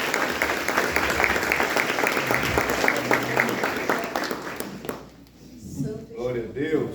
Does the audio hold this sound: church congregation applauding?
yes